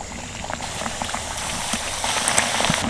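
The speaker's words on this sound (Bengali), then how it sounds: "প্রত্যেকটা পাপড়ি কিন্তু খুব সুন্দর ভাজা হচ্ছে" Papri for papri chaat frying in a little hot oil, giving a steady, dense crackling sizzle like light rain that stays close and even throughout, with no talking.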